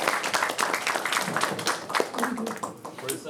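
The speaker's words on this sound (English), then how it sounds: "Can we just clap for Mimi one more time?" A small group claps briefly for a person named Mimi, a short patter of hand claps with voices mixed in.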